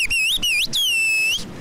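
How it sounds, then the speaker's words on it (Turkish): A single person whistling a message in the Turkish whistled language kuş dili to a neighbour, loud and near, with sharp rising and falling pitch glides and one long sustained note, no talking. "Bir şeker istesene karşı komşudan ıslıkla."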